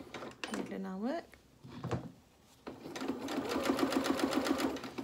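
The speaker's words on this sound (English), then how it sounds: "let's now sew this again with a quarter of an inch seam allowance. Let's do the reverse stitch" A sewing machine stitches a quarter-inch seam on a shirt, starting with short bursts and a pause, then running steadily with a fast rhythmic needle chatter; a voice talks over the early part.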